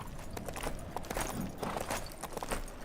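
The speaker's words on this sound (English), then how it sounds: "Soon as you find a horse, just saddle up and ride it on back here to me" Horse hooves clip-clop in a quick, even rhythm through the Old West area of LEGO Marvel Super Heroes 2, a close, steady trotting patter with no talk over it.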